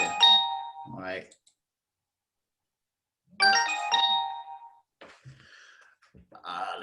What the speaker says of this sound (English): Let me turn this phone down.